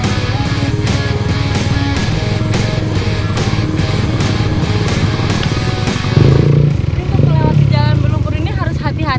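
Dirt motorcycles grind through a muddy off-road track with water-filled puddles, their engines droning loud and close without letup, one rider pushing harder near the end as the pitch rises and wavers.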